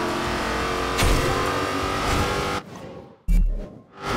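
A Lamborghini Huracán in Forza Horizon 2 roars through a speed trap, a sustained high-revving engine wail with a brief surge, then a sudden drop and a short burst before fading.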